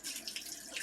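A tap runs steadily into a sink while soap is rinsed from a mask, a soft continuous hiss and splash, faint and close.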